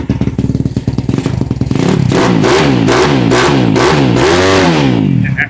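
Close, loud 150 RXF pit bike with an aftermarket exhaust, first idling with a rapid popping rumble, then revved repeatedly in rising and falling surges that stay loud to the end.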